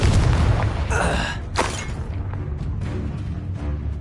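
A Confringo fire blast spell erupts in the video game Hogwarts Legacy: a loud booming burst opens, then a sharp impact and shattering crack a moment later, trailing into quieter rumbling combat noise.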